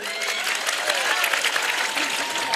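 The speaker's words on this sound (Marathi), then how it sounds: "एकदा जोरदार आयोजन कमिटीसाठी टाळ्या वाद्या." Loud, dense clapping from a crowd at a Buddhist Dhamma conference in Umri, Nanded, applauding the organising committee, steady and close for a short burst.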